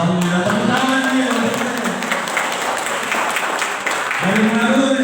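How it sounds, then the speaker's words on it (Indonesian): A crowd applauds at a village RW 01 candidate vision-and-mission event in Sukaharja, Cijeruk, Bogor, sending up dense, sustained clapping throughout while voices speak over the start and end. "tepuk tangan ya"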